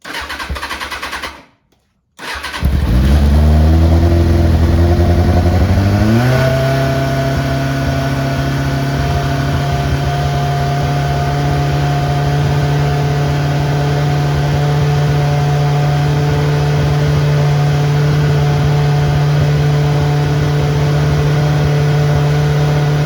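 A Kawasaki ZX6R motorcycle with a fuel system that had been run dry cranks after a brief silence, catches and revs unevenly, then settles into a loud, close, steady idle that runs on alone.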